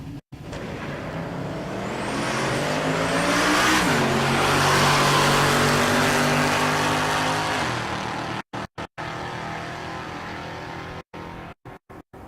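Two drag cars, a hot rod and a stick-shift Mustang, launch at a Texas drag strip, engines roaring loud and close as they rev through gear changes before fading down the strip.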